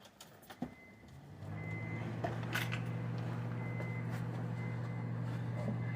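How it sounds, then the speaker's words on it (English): The engine of a 2004 Honda Pilot starts after a few faint clicks and quickly settles into a steady, close, humming idle that continues evenly to the end. "You want to start your car back up."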